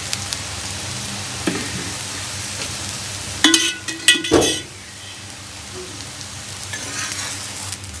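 An egg paratha with vegetables fries on a pan over low-medium flame, giving a steady sizzle, with a few sharp bursts of louder crackling and scraping around the middle.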